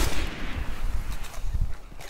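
Gunfire from a gun in the video game Destiny, a run of heavy booming shots with low thumping punches and scattered sharp cracks, loud and fairly steady throughout.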